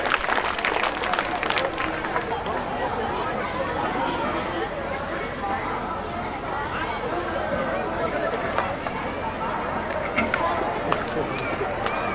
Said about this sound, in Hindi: एक बार जोरदार तालियां आप बजाएं हमारे इस विमोचन कार्यक्रम